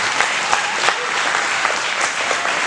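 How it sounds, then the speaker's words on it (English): Brief burst of steady applause from a crowd at a youth recreation football and cheerleader banquet, many hands clapping together at a close, even level. "Let's give them a big round of applause."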